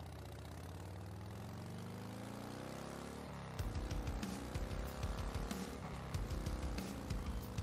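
A motorcycle engine sound effect plays during a tabletop role-playing session: a steady, continuous idle-like drone at first, then a rougher, pulsing engine throb from about the midpoint onward, with no voices.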